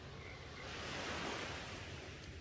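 Soft ocean surf rolls in with a gentle, hushing wash that swells and eases again, steady and fairly quiet.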